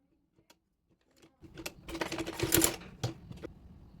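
A sewing machine stitching the ruffled sleeve onto a baby frock runs in a dense burst of rapid mechanical clatter after a few light clicks, then trails off into separate taps, close and moderately loud.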